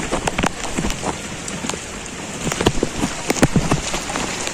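Heavy monsoon rain pours down in Chennai during flooding, a dense, loud hiss of falling water with sharp, irregular drips and splashes striking nearby surfaces, with no voices.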